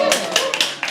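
A few scattered claps ring out from an audience at a poetry open mic, brief and uneven, mixed with a voice talking.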